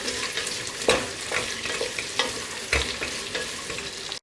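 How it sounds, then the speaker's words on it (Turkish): Potato pieces fry and get turned in hot oil in a pan, a steady close sizzle broken by a few sharper stirring clatters, no voices. "Patatesi de bir yarım dakika kadar yağın içerisinde çevirdim"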